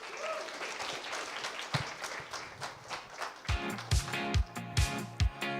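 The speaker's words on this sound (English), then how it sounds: "A round of applause." A crowd at a corporate media roadshow launch claps in a burst of applause that settles into a few loud, rhythmic claps near the end.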